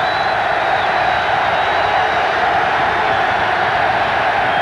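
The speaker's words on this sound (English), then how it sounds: "The crowd making it tough." A large stadium crowd roars continuously at an NFL football game between the Eagles and Bills, a loud, unbroken wall of cheering noise with no pauses.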